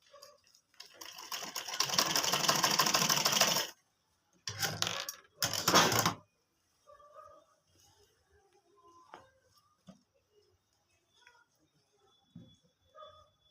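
A sewing machine runs in one long burst of stitching along a kurti trouser hem, then two short bursts, followed by quieter handling sounds and brief speech.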